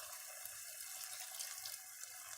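Water is poured from a tap into tomato sauce for pizza, a faint steady hiss of running water that continues evenly without talk.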